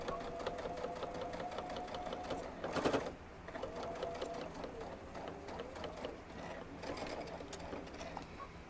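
A sewing machine runs steadily, stitching and backstitching a puff quilt seam. It pauses briefly with a clatter partway through, then resumes its close, continuous whir.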